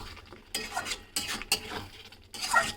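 Spinach and potato curry stirred in a pan with a spoon, a few separate scraping strokes at close range, each lasting a fraction of a second, over a faint simmer with no talking.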